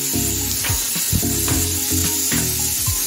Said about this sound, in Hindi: चटकने की आवाज़ आने लगती है मेथी का